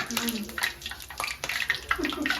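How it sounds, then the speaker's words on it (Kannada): Water splashing and running, as if poured into a bathtub or bucket, continuing steadily under lively talk from several people, including a child, in a busy household setting. "ನೀರು ಹಾಕ್ತಿದೆಯಲ್ಲ ನೀರು ಹಾಕಬೇಡ"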